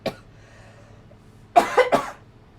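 A person coughs: one short cough at the start, then a louder burst of two or three harsh coughs close to the mic after a quiet pause.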